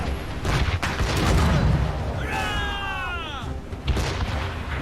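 Ship cannons boom in a naval battle in Assassin's Creed Rogue, a steady rumble of heavy low blasts with a swooping whistle-like sweep in the middle, loud and close amid the clamor of the fight.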